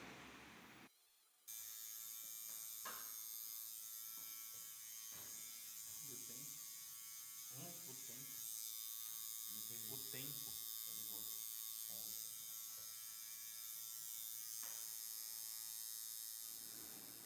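A tattoo machine needle buzzes steadily and close during shading work, a constant electric drone with someone talking over it.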